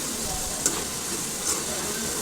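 A snack frying in oil in a pan as it is stirred with a ladle, giving a steady sizzle with two brief scraping stirs, heard close up and without any talk.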